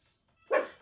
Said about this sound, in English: She's going to start barking.